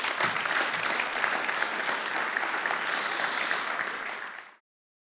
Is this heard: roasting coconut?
no